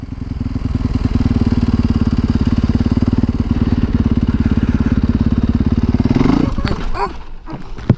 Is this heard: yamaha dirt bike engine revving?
yes